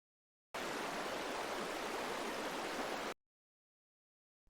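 River water flowing in a steady, broad rushing wash that starts suddenly, holds evenly for about two and a half seconds, then cuts off into silence.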